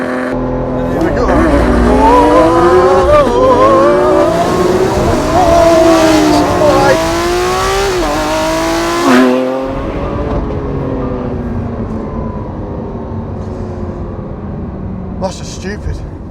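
A Lamborghini Aventador SVJ launches at full throttle, its engine screaming loudly and climbing through rapid gear shifts before easing to a lower drone, with excited voices over the roar.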